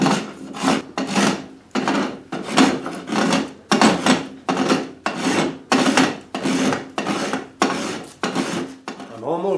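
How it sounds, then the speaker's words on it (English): Rasp filing the wooden neck of an archtop guitar near the heel, loud close-up rhythmic scraping strokes, about a dozen even back-and-forth passes. "when I get near the heel, I'll have to use a rasp"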